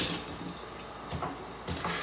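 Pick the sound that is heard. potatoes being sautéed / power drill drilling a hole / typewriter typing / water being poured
water being poured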